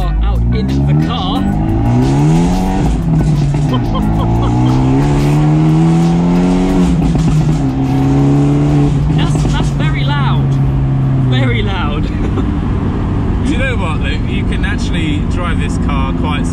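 A tuned Abarth 124 Spider engine revs hard and climbs through the gears, loud and close inside the car, with a voice talking over it near the end.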